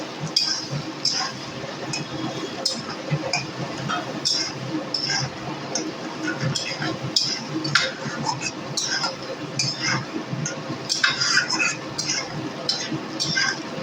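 Pieces of katla fish fry in a pan with turmeric and salt, and a utensil stirs and scrapes them with repeated metallic clinks and ticks over a low, steady sizzle.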